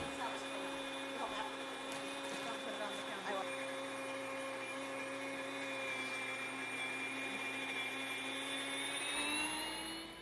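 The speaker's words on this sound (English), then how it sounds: "You turn it on and you dump the rice in, and then it grinds." An electric grain mill grinds rice into flour with a steady, high whining motor hum and a gritty churning undertone, continuous and unbroken until it winds down near the end.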